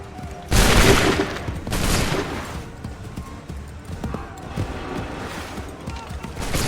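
Musket volleys from a line of soldiers in Assassin's Creed III Remastered crash out loud and close, two big crackling bursts, followed by scattered shots and battle clatter.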